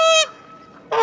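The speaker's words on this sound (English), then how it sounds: "Big freaking goose, man." A large goose gives two loud, close honks, one opening and one closing the moment, with a brief quiet gap between them.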